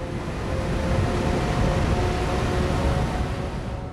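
A Panther airport fire engine rated at about 1000 horsepower runs with a heavy, steady engine roar and a deep low rumble, loud and unbroken from start to finish with a faint tonal whine above.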